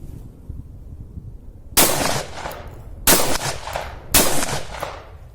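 A Husan pump-action shotgun fires single slugs at a target: three sharp, loud blasts spaced about a second apart, each followed by a short ringing decay outdoors.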